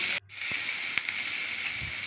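Spices sizzle steadily in a hot pan while cooking mango pulao, a continuous close hiss with a few soft clicks and stirring knocks.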